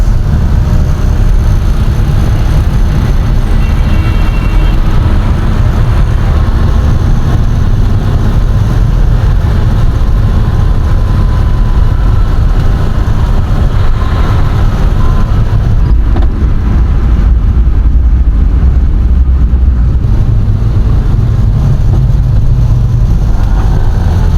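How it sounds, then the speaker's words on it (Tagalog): Congested, rain-soaked road traffic in Sandigan, a continuous close rumble of idling and creeping car and bus engines with occasional revs, loud and steady for the whole stretch. "Traffic na naman tayo itong banda, guys."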